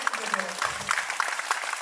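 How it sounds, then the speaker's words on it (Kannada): Schoolchildren clap together at a school program, a loose, rapid patter of many hands at moderate distance, running steadily under a man's speech. "ನಿಮ್ಗೆಲ್ಲ ನಿಮ್ಮಿಂದ ಜೋರಾಗಿ ಚಪ್ಪಾಳೆ ನಿಮ್ಮಿಂದ"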